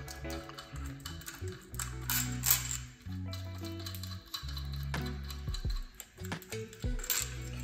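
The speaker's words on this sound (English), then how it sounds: "we will remove the three bolts that's in the ATI damper." Hand tools remove the three bolts from an ATI damper during a supercharger kit install, with close ratcheting clicks, metallic taps and small clinks coming in uneven bursts, fairly quiet.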